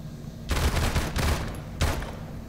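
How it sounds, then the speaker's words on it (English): Three bursts of video game gunfire ring out in a quick sequence, each a dense rattle of shots at moderate loudness, with short gaps between them. "fire three bullets"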